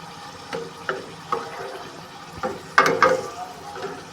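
Spoon scraping and stirring through jeera rice with dried fenugreek in a pan, a few soft scrapes and clinks spaced out over a quiet background, close and fairly faint.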